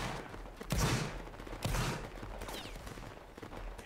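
Two heavy booming musket volleys from a line-infantry video game battle crash out about a second apart, trailing into rumbling echo and scattered distant shots.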